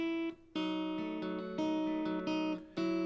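Musical phrase in Dorian mode from the opening of a cover of a song, played as sustained pitched chords that change several times, with a couple of brief dips in level and no talking.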